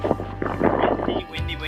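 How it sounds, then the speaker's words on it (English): Strong wind buffets the microphone while riding a Fuji touring bike in Korea near an airport, a loud, rough, continuous rumble with gusty swells that briefly drops and then returns. "Windy, windy, windy. You can hardly even see."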